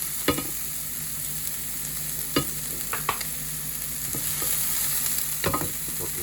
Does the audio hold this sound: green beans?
yes